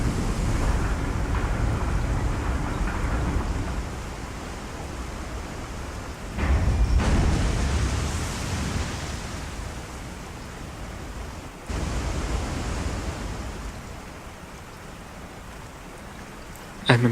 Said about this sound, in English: This will then direct the water and open the waterfall.